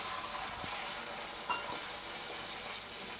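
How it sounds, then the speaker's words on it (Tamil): Water hisses and sizzles as it hits a hot pan, a steady, close-up spitting sound with one brief louder splash. "மீதி ஒரு கப் தண்ணியை இப்போ இதில் ஊற்றுறோம்"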